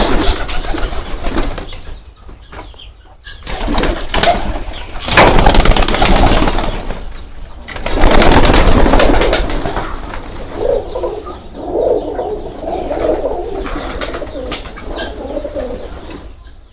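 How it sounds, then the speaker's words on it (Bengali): Domestic pigeons on a farm cooing steadily while bursts of wing flapping rise and fall close by, with a faint engine hum underneath. "এই যে কবুতর"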